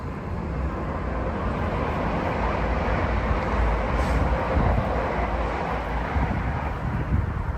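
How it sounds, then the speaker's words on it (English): A train rolls past on a busy nearby line beside a canal, a steady, loud broadband rumble with wind buffeting the microphone, no voices. "Certainly very busy on the train line here."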